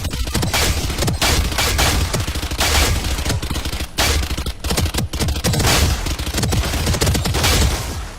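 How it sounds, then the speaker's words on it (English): A Spectre submachine gun in the video game Valorant fires rapidly with the stim beacon's faster fire rate, a loud, dense stream of closely spaced shots with only brief pauses across several seconds. "when you drop his E ability, his booster, Stim beacon here. it shoots way faster"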